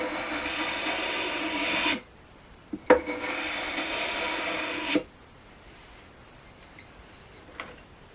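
A sanding beam rubs back and forth along a jazz guitar's wooden fretboard during fretboard dressing: two long, close, rasping strokes separated by a short pause and a light knock, followed by quiet.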